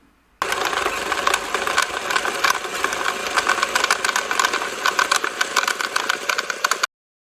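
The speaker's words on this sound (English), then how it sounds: "You just simply press the button and the cards shuffle." An automatic card shuffler for a Canasta game whirs and rattles steadily as it riffles two decks of cards, a close, busy mechanical clatter lasting about six seconds and then stopping.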